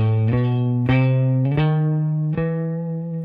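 Electric guitar notes ascend one at a time in a harmonic major scale, ringing and sustained with a touch of effect, played alone.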